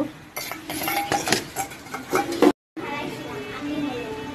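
Boiled jackfruit being served onto plates, with busy clinks and clatters of metal utensils and dishes under a voice, then a brief cut and a quieter stretch of background murmur.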